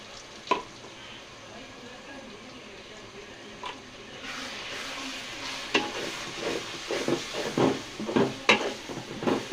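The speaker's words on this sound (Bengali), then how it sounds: "এখন আমরা এটাকে ভালো করে পেঁয়াজের সাথে মিশিয়ে নেব। সুন্দর করে নেড়ে নিতে হবে।" Spices stirred into frying onions in a pan for a mutton head and lentil dal, with a spoon scraping and clattering in bursts over a steady sizzle that grows busier and louder toward the end.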